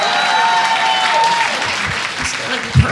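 Audience applause at a stand-up comedy show, dense clapping that swells and then thins out, with a voice speaking briefly over it toward the end.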